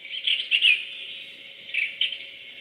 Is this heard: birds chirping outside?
yes